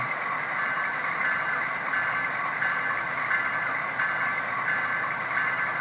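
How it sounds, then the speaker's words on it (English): A steady, continuous electronic bell tone from an Intermountain ES44AC model locomotive plays through a small speaker, unchanging and fairly tinny, with no voices. "let's hear the bell"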